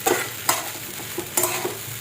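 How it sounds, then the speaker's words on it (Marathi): Soaked sabudana (sago) being stir-fried in a pan, a close sizzling bed broken by several spatula scrapes and stirs at an uneven rhythm, with no talking. "आता लगेच आहे ना शाबू आपण परतून घ्यायचे."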